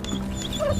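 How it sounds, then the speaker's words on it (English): A young pup whines in thin, high whimpers over a steady background hum, fairly close and brief, with no talk. "The pup is locked on something out back."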